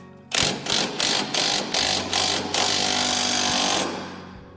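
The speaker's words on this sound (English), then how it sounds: "So let's watch this gap as I tighten up the forcing screw." Ball joint press forcing screw being tightened during Toyota Tacoma lower ball joint installation, a loud steady mechanical whir broken by about six regular clicking pulses, close up with no talking.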